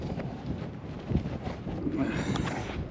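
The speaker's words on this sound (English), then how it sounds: "The wind's real bad, right on the end of the road." Strong winter wind buffeting a chest-mounted microphone at the end of a road during coyote trapping, a heavy low rumble with gusty surges and brief voice fragments.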